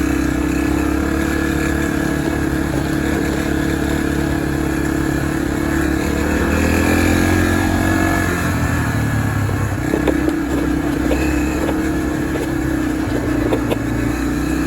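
A Yamaha TTR230 dirt bike runs along a trail, its engine holding a steady, close drone. The pitch dips and rises midway, with a few small knocks and clicks near the end.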